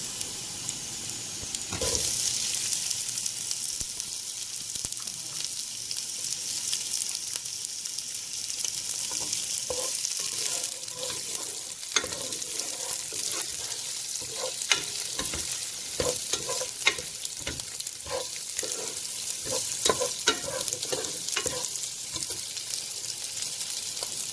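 Onion sizzles steadily in a pan for Ilocano pinakbet, with frequent scraping and clacking stirs that grow busier toward the end. The frying is close and continuous, and no one speaks.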